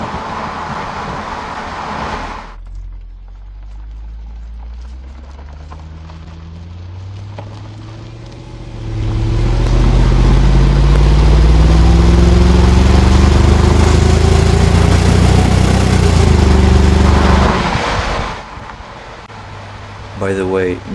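A 2001 Jaguar XK8 with a V8 sends out its exhaust note while driving. The engine hums at first, then a rush of acceleration makes the tone climb loud and full in repeated rising sweeps before it settles back down.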